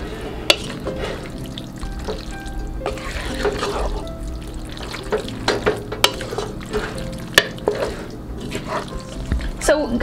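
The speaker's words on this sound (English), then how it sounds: "So we just mix everything in." Food being stirred and mixed in a pan, with scraping utensil strokes and clatter over a steady low sizzle and rumble, continuous throughout.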